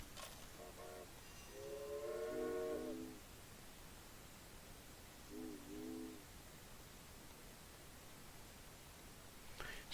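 Trains running between Dodge City and Omaha in the railway management game Railway Empire, with two short horn-like toots heard faintly over a steady low rumble and hiss.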